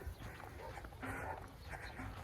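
Dogs bark and whimper on an outdoor hike in Lo Barnechea, Santiago de Chile, set against steady, noisy background rumble with some voices nearby.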